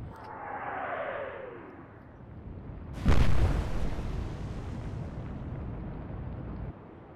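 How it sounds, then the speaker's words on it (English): A battleship's secondary guns fire in the Atlantic Fleet naval game: one loud, sharp boom stands out, then a long rumbling decay over a low background roar, preceded by a faint whistling sweep. "She's now firing back with her secondaries"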